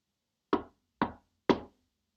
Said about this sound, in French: qui frappe encore à la porte?